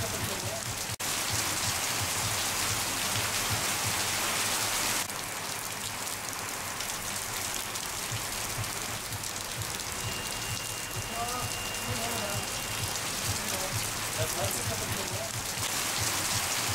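Tropical rain pours steadily over a spice market square and the surrounding pedestrian streets in Guadeloupe, a dense, even hiss of drops on hard surfaces that runs unbroken, with a few faint, brief tonal sounds in the background.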